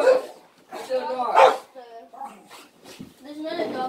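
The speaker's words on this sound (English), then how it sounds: "There's other dogs." Dogs near a house give several short barks and yips in uneven bursts, loud and close, with pauses between them.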